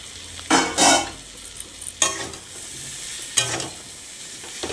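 Vegetable curry with soybean being sautéed in a pan, with a low sizzle underneath and three separate scraping stirs of a spoon against the pan, the first a double stroke.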